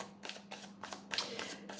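Tarot cards shuffled by hand before drawing, a quick rhythmic series of soft riffling bursts, about six in under two seconds, heard close but quietly with no voices.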